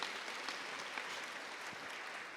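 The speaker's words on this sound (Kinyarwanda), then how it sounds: "Dukomere Yesu amashyi menshi cyane." A church congregation applauds during a sermon, producing a steady, soft wash of many hands clapping that sounds distant and even for a couple of seconds.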